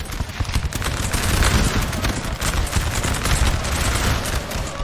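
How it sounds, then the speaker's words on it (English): Musket volleys in the Napoleon Total War video game, a dense, loud, continuous crackle of overlapping gunfire that rolls on without pause. "Man, these volleys, though, regular volleys being exchanged."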